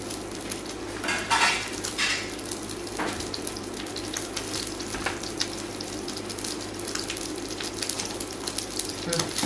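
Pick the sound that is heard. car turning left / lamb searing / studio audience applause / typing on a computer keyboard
lamb searing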